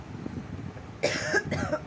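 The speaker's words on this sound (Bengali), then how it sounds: "হঠাৎ করে কাশি উঠলো আর শ্বাসকষ্ট হতে লাগলো" Person with a cold and breathing difficulty coughing, two short, harsh coughs in quick succession close to the microphone, after a brief quiet lead-in with faint background noise.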